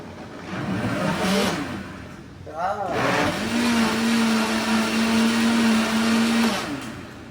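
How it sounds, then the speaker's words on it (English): A kitchen blender whirs loudly through a batch of tortilla soup ingredients, a steady motor drone with a sustained pitch that runs for several seconds before cutting off, preceded by brief rattling as the machine starts. "so one more boring blend"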